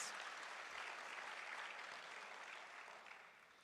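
Audience applause at a fintech summit in Accra, a steady wash of clapping that holds evenly for several seconds, then eases slightly before stopping.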